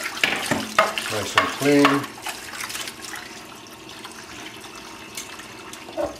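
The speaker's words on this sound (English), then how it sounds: "First thing you want to do is wash the bones off good." Fish bones, about 1.25 pounds, rinsed under a running tap to wash out blood, with close handling clatter and splashing at first, then a steady stream of water; a voice speaks briefly.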